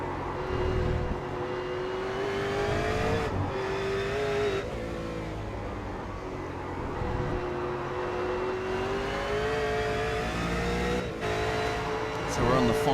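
Race car engine droning steadily around the Oran Park circuit, holding a sustained pitch with slight rises and dips, loud and continuous, with a commentator talking over it.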